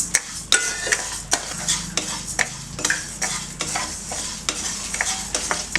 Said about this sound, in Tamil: வெறும் இருப்பு சட்டியில் வச்சுட்டு நம்ம வறுத்துக்கணும்